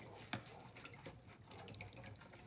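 Water runs into a sink while a knife is hand-washed and its handle scrubbed with a washcloth, a steady faucet stream with small splashes and drips, close and moderate.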